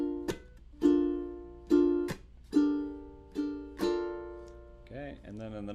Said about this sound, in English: when you put the strum with the chukka in there, it sounds like this. I'll do it slow.